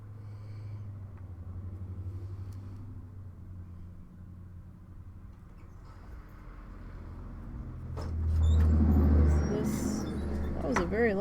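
A loud truck passes outside a room where someone is painting dot art; a steady low rumble builds into a heavy, close roar near the end, then eases off.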